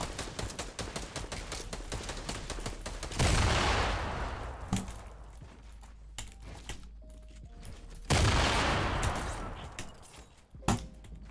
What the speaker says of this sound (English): I'm getting shot from tilted too